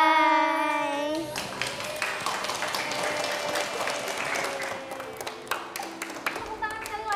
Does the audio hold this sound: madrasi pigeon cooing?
no